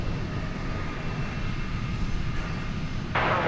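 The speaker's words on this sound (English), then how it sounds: "Little Learjet. It's a pointy nose, isn't it?" A Learjet's engines rumble with a steady broadband roar at an airport runway, a dense low drone that swells suddenly louder and brighter near the end.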